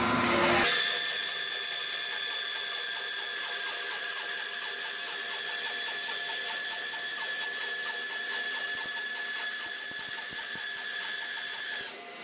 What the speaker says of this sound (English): just slide it into your block, lock it up, and make another cut